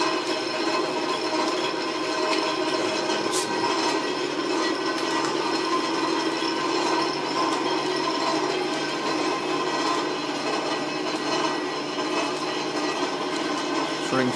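A Drummond type M lathe set up as a knee planer, running slowly on screw-cutting gear at high reduction: a steady, noisy mechanical whirring hum with gear whine, continuous and close.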